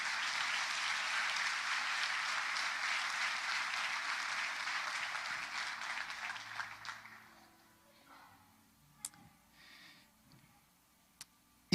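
A church congregation at a Pentecostal service applauds together in a steady, dense wash of clapping for several seconds before it fades out, leaving only a few faint knocks and stray claps in a quieter room.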